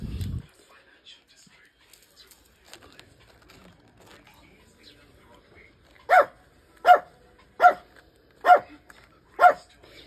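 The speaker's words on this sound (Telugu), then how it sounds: "సో చిన్న కుక్క పిల్ల పాపం" A small puppy gives five sharp, evenly spaced barks close by, following a quieter stretch with faint soft voices and rustling.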